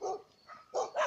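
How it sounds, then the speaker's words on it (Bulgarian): A dog barks at passers-by on an outdoor walk: a short close bark, a softer one, then two loud sharp barks in quick succession. "Окей, хора. Пак стигнахме до това куче."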